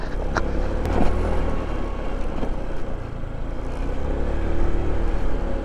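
A small scooter motor hums steadily under rushing wind and road rumble while riding on the Capas-Botolan Road in Zambales, Philippines, with a few brief clicks and knocks along the way.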